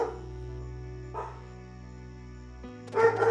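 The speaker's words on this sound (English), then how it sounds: "Puppies are going crazy." Puppies bark and yip in the video game Sea of Stars, a couple of short bursts over a steady, droning music background, with the liveliest cluster at the end.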